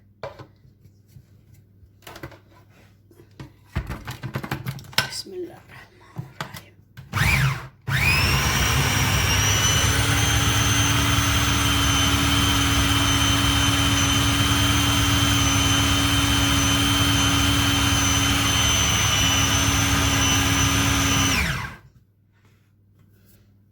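A countertop blender purées the ingredients for Turkish acuka ezme, starting after a few clicks and rattles and then holding a loud, steady high-pitched whine for about fourteen seconds before spinning down.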